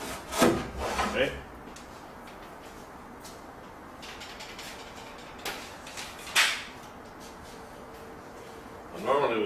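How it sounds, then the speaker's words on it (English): A hole is drilled into a baptistry shell: short grinding, rasping bursts come close up, separated by quieter gaps, with a person talking throughout. "Now when you drill your hole, you want to wallow it just a little bit so that the plug comes out of your drill."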